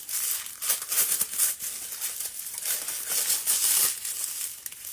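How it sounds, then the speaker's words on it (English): Plastic wrap being peeled and crinkled off nail polish packaging, close, bright crackling rustles in irregular bursts with no talking. "we got to unwrap a little bit more"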